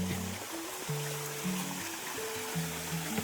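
A countryside stream flows steadily with a soft, constant wash of water beneath louder tonal background music.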